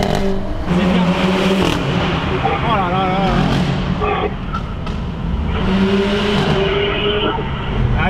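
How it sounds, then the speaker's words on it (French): A Renault Clio 4 RS Trophy engine revs loudly nearby with rising and falling pulls and some tire noise, while several people talk over it throughout. "on va voir un peu le son de la Clio 4RS qu'elle donne"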